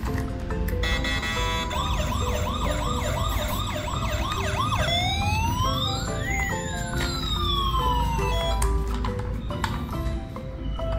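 Video game police car sirens: wailing sirens rise and fall in fast repeating sweeps, then shift to slow crossing wails, loud and continuous over a steady low rumble.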